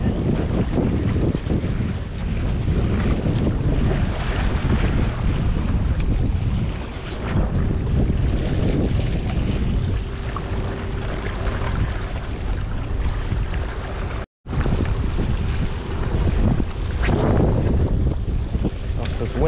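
Strong gusty wind buffets a fishing pier in Durban, a constant loud roar of wind noise with waves below, briefly cutting out near the end.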